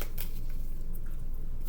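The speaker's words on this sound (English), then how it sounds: "Let's get 2 more cards for the divine feminine." Tarot cards shuffled and drawn, a brief loud close rustle and slide of card stock with sharper flicks at the start and end.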